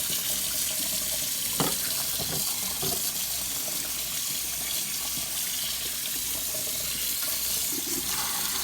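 Tap water runs steadily into a sink while a raw turkey is washed, a constant close hiss and splash with occasional clunks and small knocks of handling, no talk.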